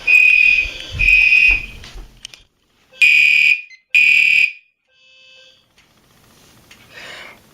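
A fire alarm system under test sounds loudly in a house. It gives four strident blasts, the first two over a low rumble, and then the room falls quiet with only faint noise.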